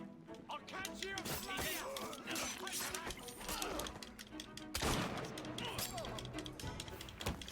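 Gunfire bursts and mechanical weapon clatter from a video game crackle in rapid clusters, with a heavier blast midway, mixed under a voice talking throughout.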